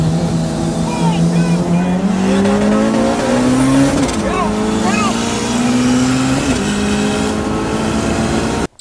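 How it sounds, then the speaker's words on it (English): A turbocharged LS-swapped VTEC Acura Integra drives at night, its engine droning loudly and steadily, with rising and falling pitch as it accelerates and shifts, and faint tire noise. "Of the Integra running, and the car runs pretty good."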